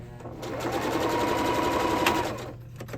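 A sewing machine stitches steadily forward and then back-stitches across the fabric, a continuous close mechanical whir that runs for most of the clip and trails off near the end, with no talking.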